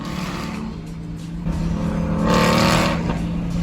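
A loud Ford Mustang engine with a modified cam roars nearby and swells as it passes, with a steady low rumble and rising intensity midway, no talking.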